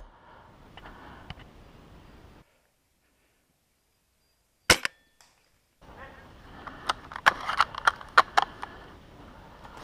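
An airsoft sniper rifle fires once in the woods, a sharp isolated crack after a near-silent pause, followed by rustling footsteps and clicks through brush.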